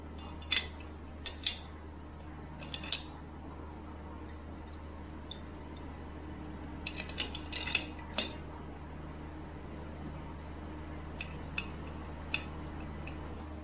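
Metal bolts dropping into a Ford 7.3L Powerstroke engine block, heard as sparse sharp clinks and ticks scattered across a low steady hum, with a small cluster of taps midway.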